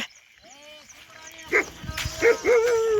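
A dog barks and yips a few times close by, with whining tones and faint background sounds in between.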